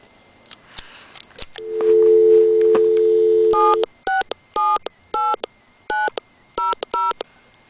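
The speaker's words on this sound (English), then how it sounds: "what we're going to do now is dial a test number" Touch-tone telephone dialing of a test number: faint clicks, a steady dial tone held for about two seconds, then a quick series of crisp DTMF beeps, each short and evenly spaced.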